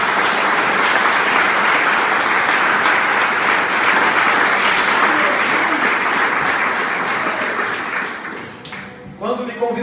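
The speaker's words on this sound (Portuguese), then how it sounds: "dê uma forte salva de palmas para Jesus" A church congregation bursts into strong, sustained applause, dense and loud for several seconds before thinning out abruptly, with a few voices emerging as it fades.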